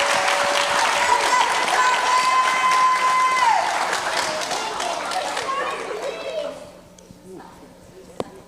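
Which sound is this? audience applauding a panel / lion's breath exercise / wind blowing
audience applauding a panel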